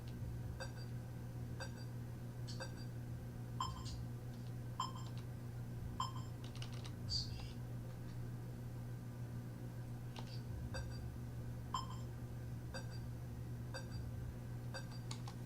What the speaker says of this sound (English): Those beeps all sound solid and synced.